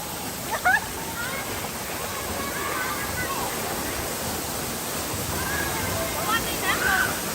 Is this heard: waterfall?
yes